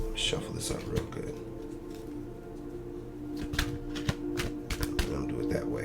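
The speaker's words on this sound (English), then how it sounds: "Shuffle this up real good." Tarot cards being shuffled, a run of soft riffling and tapping bursts at close range, partly under a steady hum and a person talking.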